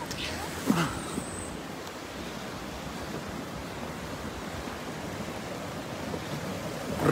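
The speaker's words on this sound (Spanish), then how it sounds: "El río Tula ya se está desbordando." The Tula river overflowing in a September flood, a steady broad rushing roar of floodwater throughout, with a brief knock or voice near the start.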